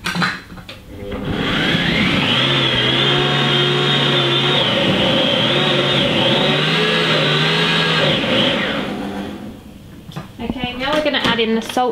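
A food processor blends vegetable stock on speed 7 for about ten seconds, a loud steady motor whir with rising pitch that cuts off, followed by a brief clatter and voices.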